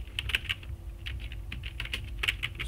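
Keys clack on a computer keyboard as a terminal command is typed, a close run of quick irregular taps with short pauses between bursts.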